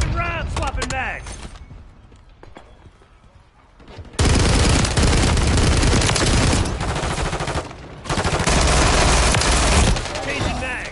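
Heavy automatic gunfire in the video game Call of Duty Modern Warfare 3 multiplayer, loud sustained bursts broken by short pauses, with mechanical clicks and creaks of a magazine swap in the quieter opening.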